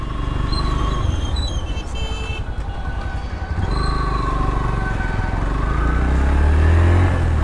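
A custom-built Mark 2 motorcycle is ridden along the road, its engine droning under rushing wind noise, with the rumble growing louder and deeper toward the end.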